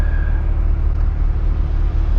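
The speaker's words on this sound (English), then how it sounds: "your exhaust is loud" BMW M4 at a roadside traffic stop, its loud exhaust a steady low, throbbing drone at idle, close and continuous with no other sound over it.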